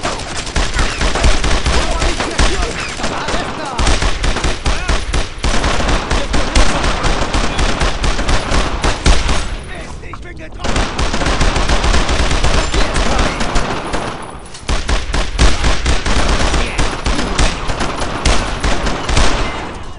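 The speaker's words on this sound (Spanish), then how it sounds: "¡No dejéis de disparar!" Sustained WWII-era battle gunfire from Brothers In Arms: Road to Hill 30, with dense overlapping machine-gun bursts and rifle shots rattling loudly and nearly nonstop, broken by one brief lull near the middle.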